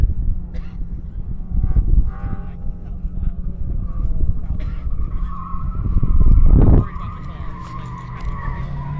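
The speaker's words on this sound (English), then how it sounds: "Looks like Chuck Veth is headed out first in the GT2 RS." A Porsche GT2 RS race car heads out onto the track during a Nashville Superspeedway afternoon session, its engine rumbling and rising to a loud surge with tire noise, while people talk over the scene.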